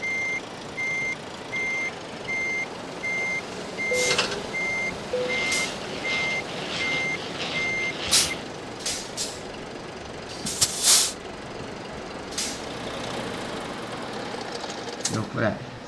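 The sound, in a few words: truck reversing to park in Euro Truck Simulator 2 video game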